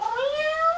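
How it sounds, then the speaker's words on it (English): A cat gives a single clear, rising-then-falling meow, close and loud, heard alone. "And we have a cat here too,"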